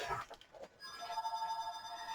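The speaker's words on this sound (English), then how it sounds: "excuse my phone, sorry, it's the house phone." A house phone rings in a home, its steady electronic trill sounding nearby and fairly quiet after a short moment of soft shuffling sounds.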